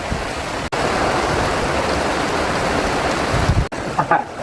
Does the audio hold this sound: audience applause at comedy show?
no